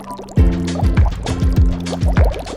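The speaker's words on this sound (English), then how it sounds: "All right, it's now come to a boil." Water and rice in a pot come to a boil, with low repeated bubbling pops and gurgles in a steady irregular rhythm, close and fairly loud, with no talking.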